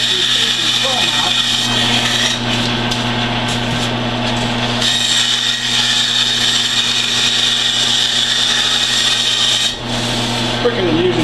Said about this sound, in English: we're just going to use the bandsaw here to cut these pieces of foam out.